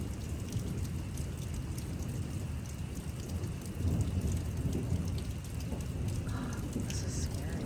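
Severe thunderstorm on a farm: heavy rain roars steadily and close throughout, with low rolling thunder swelling beneath the downpour midway.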